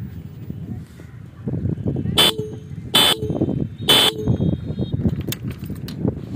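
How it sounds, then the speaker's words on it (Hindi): Three sharp, loud blasts from an Apache dual horn fitted to a TVS Sport motorcycle sound about a second apart, each brief and high-pitched, over a background of clattering and rumbling engine noise. "इसमें मैंने डुअल हॉर्न लगवाए थे जो कि अपाचे के हैं।"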